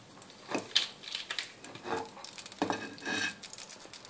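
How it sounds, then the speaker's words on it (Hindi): Asafoetida dropped into hot oil for a dal tadka gives short bursts of sizzling with light stirring and utensil clatter, close and moderately loud, with no voices. "तेल गर्म हो चुका है, अब इसमें पहले हींग थोड़ी सी डालूंगी"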